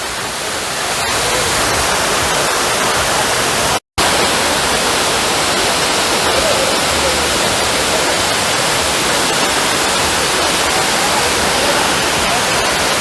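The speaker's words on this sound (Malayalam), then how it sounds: "കുറച്ചു നേരം വെള്ളച്ചാട്ടം നോക്കിക്കൊണ്ടിരിക്കാം" A three-tiered waterfall roars in a continuous, loud wash of white-noise-like rushing water, steady throughout with only a momentary cut early on.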